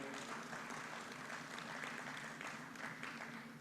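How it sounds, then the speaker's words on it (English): Audience applause for an Oxford development economics professor at an economic growth forum in Uganda, a faint but steady wash of clapping from a crowd. "a round of applause will make him happier"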